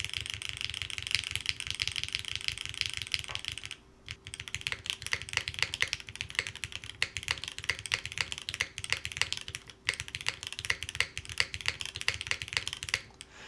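Typing on an Intro S100 full-size keyboard fitted with a polypropylene plate and gaskets, no foam: a quick, close run of keystrokes, a brief pause, then steady clacks with occasional deeper spacebar hits.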